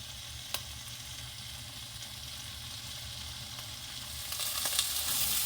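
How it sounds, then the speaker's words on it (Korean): Semi-dried mackerel grilling in a covered pan over medium heat, a continuous low sizzle and hiss that swells louder toward the end, with one sharp click early on, close with no voices. "뚜껑 덮고 7분 구워 보겠습니다. 중불로."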